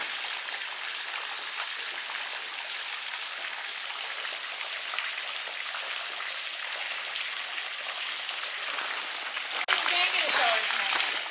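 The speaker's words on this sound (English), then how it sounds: "It's like a little waterfall that goes up here." A small waterfall on a hiking trail near White Rocks in the Cumberland Gap gives a steady, close, hissing rush of falling water, unbroken throughout, with a brief knock near the end.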